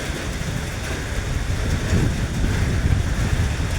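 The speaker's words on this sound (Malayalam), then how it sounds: "ഞാനിവിടെ ഒരു വീഡിയോ എടുത്തുകൊണ്ടിരുന്നപ്പോൾ തന്നെ കൊണ്ട് കാറ്റ് മഴ വന്നു ഭയങ്കര കാറ്റായിരുന്നു" Dense, roaring wash of wind and rain, steady and loud, buffeting close to the microphone with no voices.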